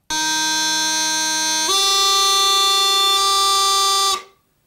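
A loud, reedy bagpipe tone sustains on D, then steps cleanly up to F and holds before stopping abruptly; no voices.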